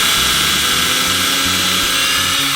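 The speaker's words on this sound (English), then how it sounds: "Drill that hole." A power drill whines steadily at high speed, close and loud, with a rough pulsing grind underneath as it bores a pilot hole through wood for a screw, then winds down.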